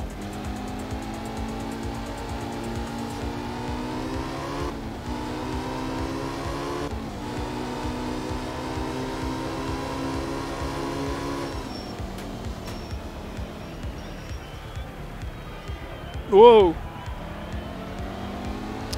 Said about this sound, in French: J'ai un peu moins de relance avec le gravier, je sais pas si vous l'avez senti, mais la voiture a eu un peu de mal de relancer.